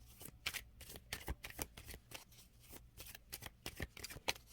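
Tarot cards being shuffled by hand, a rapid run of crisp riffling and slapping bursts, close and quiet with no talking.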